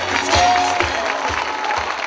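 Audience applause at a live comedy theater performance, a steady wash of clapping held at an even level throughout, with faint voices mixed in.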